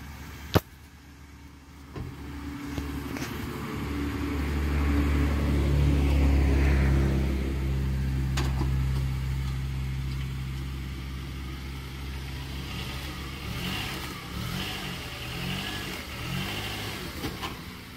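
A 2004 Honda Accord's engine revs up as the car climbs onto ramps, a loud mid-pitched surge building over several seconds, then settling into a steady idle with brief clicks and knocks.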